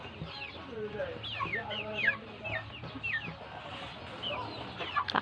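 Flock of 45-day-old broiler chickens clucking and chirping steadily, with repeated short calls close by over a constant low farm hum.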